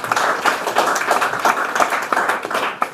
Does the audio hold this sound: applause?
yes